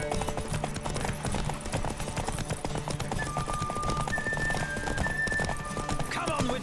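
Rapid clip-clopping hooves of a galloping horse in The Witcher 3: Wild Hunt, steady and close, mixed with lively background music and brief voice sounds.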